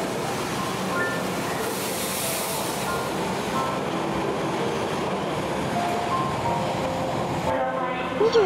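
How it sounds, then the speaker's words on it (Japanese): Extra Midosuji Line subway train arriving at Nakatsu station in Osaka after a large concert, a steady loud rumble of railcars rolling in, with a brief squeal of brakes near the end. "21時10分、2本目の臨時列車中津駅が到着。"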